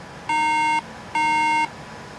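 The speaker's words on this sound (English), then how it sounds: "we get the 3 RAM beep error" Two identical electronic beep tones from a MacBook Air signaling a RAM error, each about half a second long with a short gap between them, clear and loud against a faint background hiss.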